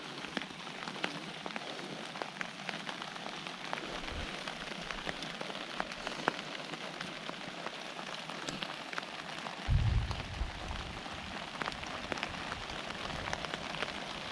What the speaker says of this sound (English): on cue, it starts to rain again